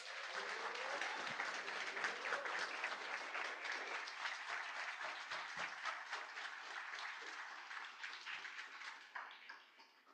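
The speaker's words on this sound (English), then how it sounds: "could we have a round of applause for our guest musicians and these young people who brought us the service today?" A church congregation applauds guest musicians and young people after a service, with a dense, steady roar of many hands clapping that carries on for about ten seconds before thinning out at the end.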